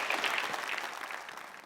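Audience applause at a live show, a brief burst of dense clapping from a crowd, loud at first and tapering off within a couple of seconds.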